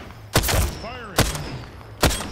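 Video-game gunfire: three sharp, loud shots spaced evenly apart, with a thin falling whistle between the first two.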